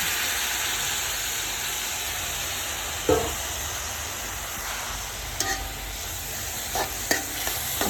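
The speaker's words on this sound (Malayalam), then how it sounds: "ക്യാരറ്റ് വഴട്ടാനിടാം അര കപ്പ് പാലൊഴിച്ച് കൊടുക്കാം വേവാൻ വേണ്ടിയാണ്" Grated carrot sautéing in a pan with half a cup of milk for a sweet stuffed ada, a steady soft sizzle and simmer hiss with a few brief stirring scrapes near the middle and end.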